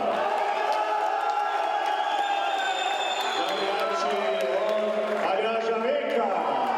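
Fans cheering and whooping in a hall at a 2016 national boxing championship in Ravne na Koroškem, a dense continuous crowd roar with shouts rising and falling, under an announcer's voice.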